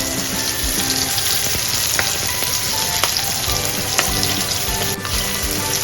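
Chopped onion frying with dried fish in a pan, a loud continuous sizzle close up with occasional clinks and stirring scrapes, no voices.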